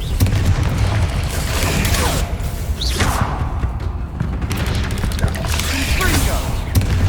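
Fire-spell blasts in the video game Hogwarts Legacy: a constant loud, rumbling roar of booms and crackling impacts with occasional whooshes, filling the whole stretch without pause.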